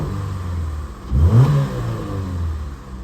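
A 2006 Chevrolet Cobalt LS with the 2.2-litre engine runs steadily near the microphone, then gives one short, loud rev that rises and falls back to a smooth idle.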